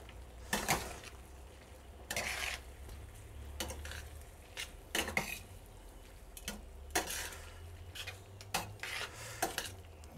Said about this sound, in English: And then with my tongs, start stirring this around.